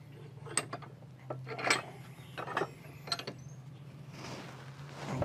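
Bench vise tightened down on a pair of pruning shears, a close series of scattered metallic clicks, ratcheting squeaks and creaks over a low steady hum.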